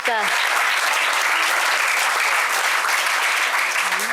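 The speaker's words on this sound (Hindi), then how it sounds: "जोरदार तालियों से अभिनंदन करें एकता पांडे जी का" A theatre audience gives loud, steady applause to an actress after a drama performance at a Premchand Jayanti event in Varanasi, the dense clapping continuing throughout with a voice faintly heard at the start and end.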